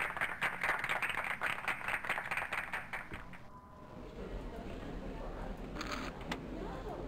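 Rapid, rhythmic clapping from the video game Freddi Fish 3 for about three seconds, fairly faint, followed by quieter background noise.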